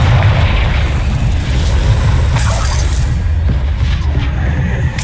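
A Confringo spell explosion in Hogwarts Legacy erupts as a loud, dense burst with crackling, shattering debris, sustained over a heavy low rumble throughout.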